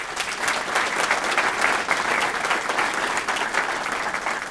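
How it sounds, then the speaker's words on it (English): Steady, dense applause from an audience at a speech honoring local veterans' post commanders, many hands clapping at an even level throughout without a break. "I hope you give them a round of applause"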